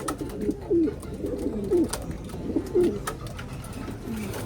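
Racing pigeons coo repeatedly in a loft in soft, throaty rolling phrases, close by, with faint rustling and shuffling between calls and no voices.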